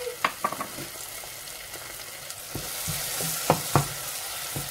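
Ginger and garlic paste sizzles steadily in a frying pan for a chicken curry with coconut milk, a close hiss of frying broken by scattered clicks and stirring scrapes.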